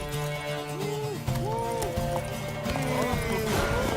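Hooves clip-clop steadily as a horse runs in The Witcher 3: Wild Hunt, with a horse neighing over a dense, layered game soundtrack of music and ambience.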